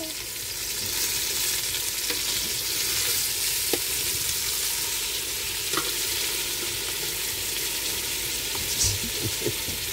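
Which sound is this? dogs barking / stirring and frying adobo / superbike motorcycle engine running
stirring and frying adobo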